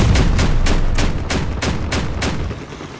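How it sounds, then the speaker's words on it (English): Sniper and autocannon fire in the vehicle combat game Crossout, a loud, steady run of about eight rapid shots in even rhythm over a dense rumbling din, with no voice. "We're getting sniped at."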